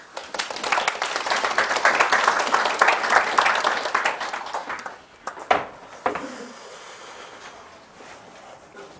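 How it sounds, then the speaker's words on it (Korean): A class of students claps along during a Korean literature lesson, a dense burst of hand claps for the first few seconds that thins into a few scattered claps, then fades. "박수 한번 쳐보세요."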